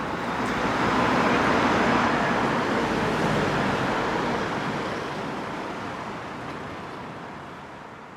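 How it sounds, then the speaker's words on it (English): Dense city street traffic in Jeju City, South Korea, a continuous loud roar of passing cars and buses that swells and then slowly fades, heard up close with no talking. "if not, this will just be a traffic-y episode"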